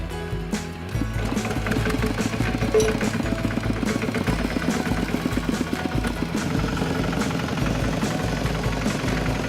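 A hired tractor engine running in rural Cambodia, a steady, rough mid-pitched idle with dense rhythmic chugging, close and continuous throughout after a brief quieter start.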